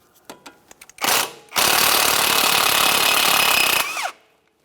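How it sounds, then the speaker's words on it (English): A pneumatic impact wrench loosens a 17mm mounting nut on the steering tie rod of a 2014–2018 Mazda 3, starting with a few short taps and then rattling in two loud, close bursts lasting several seconds. "We'll use a 17mm to loosen our mounting nut."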